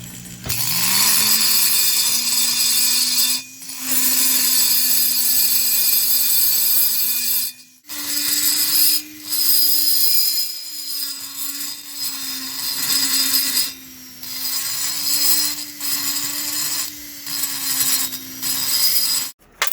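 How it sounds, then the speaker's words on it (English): Rotary burr bits grind into a junk chainsaw cylinder, a high rising whine of a die grinder spooling up and biting into metal in several pressed passes separated by short pauses, close and loud. "I'm pressing the same amount with each of these bits on the same junk cylinder"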